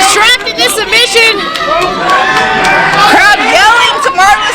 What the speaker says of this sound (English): Crowd yelling to Marvelous to tap.